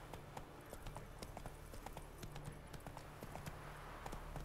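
Roach the horse galloping in The Witcher 3, a rapid rhythmic clip-clop of hooves at a steady pace over a low rumble, quiet and alone without talk.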